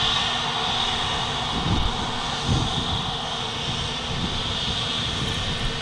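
An airplane taxis at Boston's Logan Airport, its engine giving a loud, continuous broadband roar and whine that stays even throughout, with no talk.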